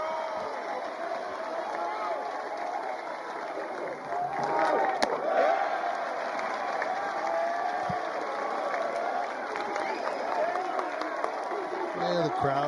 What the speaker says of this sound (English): Yeah, the crowd starting to get into it.